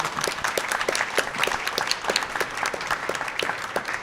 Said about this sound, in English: One more round of applause for our candidates.